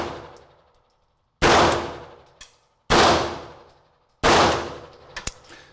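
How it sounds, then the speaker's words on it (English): Three loud, sharp pistol shots crack out at an indoor shooting range, evenly spaced about 1.5 seconds apart, each followed by a ringing reverberant decay and faint clinks between shots. "Take that shot on number one."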